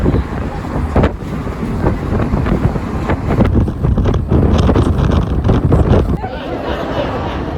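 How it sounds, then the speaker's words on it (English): Strong wind roars and buffets the microphone throughout on an open-top tour bus crossing a bridge in San Francisco, a loud steady rush with some faint talk underneath. "and it is windy."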